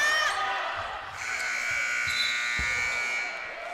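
A basketball game buzzer sounds at the end of a quarter in a women's college game, a sustained harsh electronic tone lasting several seconds with a few faint thuds beneath it.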